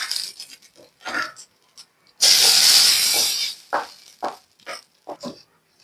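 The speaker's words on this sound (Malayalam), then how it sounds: "ഇനി നമുക്ക് ഇത് കടുക് ഈ വറവിലേക്ക് ഒഴിച്ചു കൊടുക്കാം" Hot oil tempering with mustard seeds, dried red chillies and curry leaves is poured onto a bitter gourd fry, giving a sudden loud sizzle that lasts about a second, with scattered clinks and scrapes before and after.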